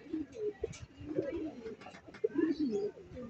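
Racing pigeons, light checkered birds arriving at the loft after a 130 km race, coo softly and repeatedly close by, with low throaty burbles and light rustling.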